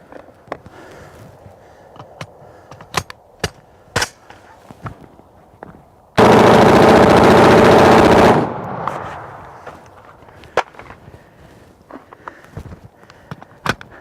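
AR-15 rifle firing a loud, sustained burst of rapid continuous gunfire for about two seconds, set between scattered single shots and clicks before and after while the gun runs hot.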